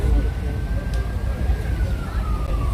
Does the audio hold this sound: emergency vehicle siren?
yes